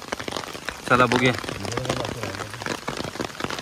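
Heavy rain pours down in a steady, dense roar close by, while someone speaks briefly over the downpour.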